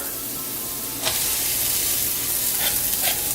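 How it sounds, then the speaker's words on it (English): Shallots hit a hot skillet of vegan breakfast hash. After a quiet second of low frying, a loud, bright sizzle bursts up close and keeps hissing, with brief stirring flares near the end. "At this point, I'm gonna add the shallots."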